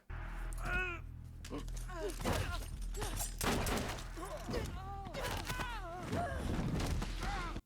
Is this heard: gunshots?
yes